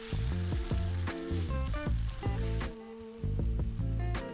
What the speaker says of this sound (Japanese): しっかりと水分が飛び酸味が和らぐまで炒めていきます。